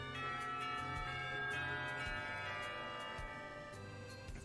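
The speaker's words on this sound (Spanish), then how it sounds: "ya que suena la campana" School bell in the visual novel Katawa Shoujo, a sustained bright metallic ringing with steady repeated strikes and a soft background music bed, loud and continuous throughout.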